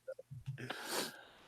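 A single sharp sneeze from someone with allergies follows a few soft vocal sounds and a brief murmur, close and fairly quiet.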